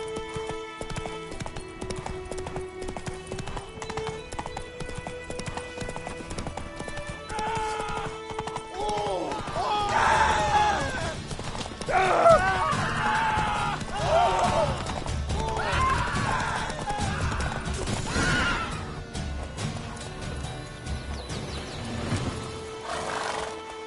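Hoofbeats of Geralt's horse Roach in The Witcher 3 rise to a loud, rapid clip-clop gallop over game music, with a horse whinny and some dialogue in the middle stretch.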